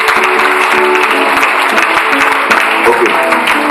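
A church congregation at a Sunday service applauds to acclaim the Lord, a dense, steady roar of many hands clapping close by with no break, loud throughout.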